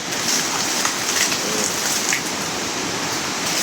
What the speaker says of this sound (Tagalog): Oh, lakas ng tubig.